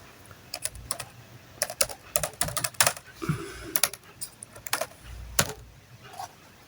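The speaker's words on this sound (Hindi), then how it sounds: "हम पासवर्ड डालते हैं।" Fast clicks of a password being typed on a computer keyboard, irregular bursts of close, crisp keystrokes with short pauses and no talking.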